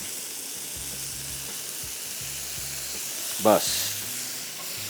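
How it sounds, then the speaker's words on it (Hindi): Okra (bhindi) being stirred and fried in a pan on a stove, finished with lemon, giving a steady close sizzle with a few brief stirring scrapes and a short burst of steam, while someone speaks briefly. "सिर्फ इसको मिक्स किया थोड़ा सा और ये भिंडी हो गई तैयार।"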